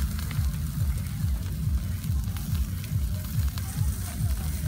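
Tamban fish frying in a pan, a steady close sizzle with crackling oil and faint bubbling that runs unbroken the whole time, no voices.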